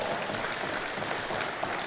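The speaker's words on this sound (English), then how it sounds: "crowd put their hands together for the scores coming together again" Crowd applause at a tied smallball squash quarter-final of the World Championships, a steady, dense clapping that holds evenly throughout without voices on top.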